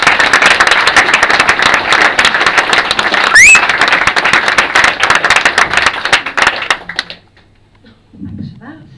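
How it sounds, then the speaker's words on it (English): Applause and clapping greet a poet at a spoken-word night in Luton, dense and steady for about seven seconds with a brief electronic whistle partway through, then fading to near quiet. "please, very warm round of applause for Faye Roberts!"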